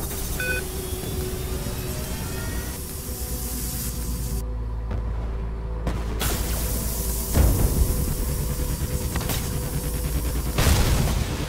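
An enemy ship blowing up in a space combat video game, a sustained roaring, hissing blast with heavy low rumble and sharp booming bursts near the middle and end, loud and continuous.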